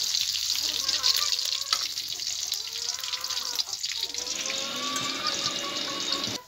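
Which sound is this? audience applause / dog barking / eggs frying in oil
eggs frying in oil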